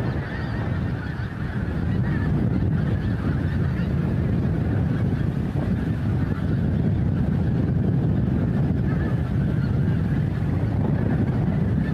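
Pink-footed geese honk at Montrose Basin, a large flock making a dense, continuous wash of overlapping calls at a distance, steady throughout.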